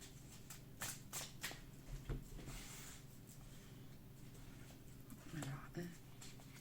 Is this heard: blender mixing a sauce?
no